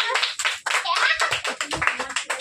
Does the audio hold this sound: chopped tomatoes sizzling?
no